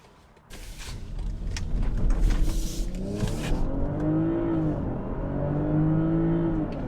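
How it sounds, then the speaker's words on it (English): A 2021 BMW X5 xDrive45e plug-in hybrid's gas engine kicks on at about 50 mph, a rising hum and whir that swells and settles into a steady drone inside the moving vehicle. "You could hear the gas engine kicked on there"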